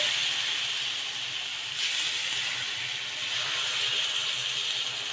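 Rava dosa batter poured onto a hot pan sizzles with a steady, loud broadband hiss that swells briefly near the middle, with no voices over it.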